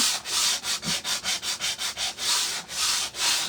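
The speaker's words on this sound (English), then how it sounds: "This is some heavy duty sandpaper too." Heavy duty sandpaper rubbed back and forth over a surface, likely wood, in a steady run of about a dozen close, loud rasping strokes, with a few longer sweeps near the end.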